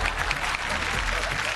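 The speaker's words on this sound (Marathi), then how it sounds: "आता माझ्यातर्फे दोघींना मिळत आहेत जोरदार टाळ्या" Loud, steady applause from a studio audience for two women guests on a Marathi TV show, filling the whole short stretch without a break.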